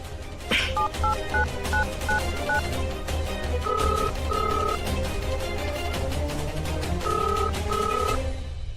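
A series of telephone keypad tones beeps out in quick succession, followed by steady repeating ringback tones over a constant background hum.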